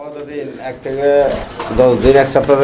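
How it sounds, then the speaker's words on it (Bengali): A male pigeon from a breeding pair at a pigeon seller's loft gives close, throaty coos in short rolling phrases, with a human voice nearby. "দেখেন এটা হচ্ছে নর কবুতর"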